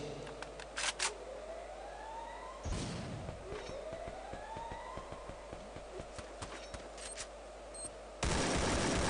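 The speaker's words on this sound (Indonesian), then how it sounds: "terdengar suara tembakan" Gunfire in the video game Free Fire during a tournament final: bursts of rapid shots and scattered single cracks over a steady game background, with a few sweeping tones and a louder noisy stretch at the end.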